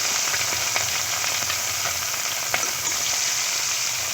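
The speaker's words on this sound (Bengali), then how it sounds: "খুব ভালো করে তেল গরম করে নিয়েছি, দিয়ে দেবো মাছ।" Fish frying in hot oil in a pan, a loud, steady, dense sizzle with occasional faint pops and clicks, close and without talk.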